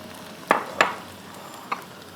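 Onions and tomatoes fry in oil for chicken karahi, a soft background sizzle broken by three sharp spoon scrapes and clacks against the pot, close up with no talking.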